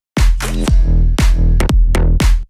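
A deep synth bass swells and cuts off in repeated reversed-sounding bursts over punchy electronic beats, loud and close.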